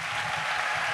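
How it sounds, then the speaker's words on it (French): A church congregation at an evangelism school gathering breaks into dense, steady applause that fills the moment evenly with many overlapping claps and no speech over it. "Acclamation."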